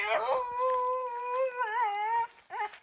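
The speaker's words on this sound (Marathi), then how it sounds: "कुत्रा आणलेला, डॉबरमॅन. हा बोलतोय, थांब जरा." A Doberman dog gives a long, close howl that wavers and holds for about two seconds, followed by a short whining yelp.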